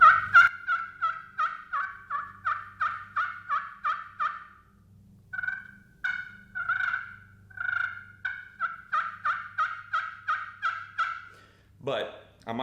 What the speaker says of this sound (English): is the pecker wrecker that I have had for probably 5 years now. It's glass over Leopardwood. It sounds great.